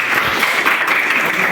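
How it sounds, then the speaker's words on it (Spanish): Audience at a human medicine abortion debate breaks into strong, dense applause that holds steady and close throughout, with no speech over it. "espero que también ustedes le den fuerte aplauso"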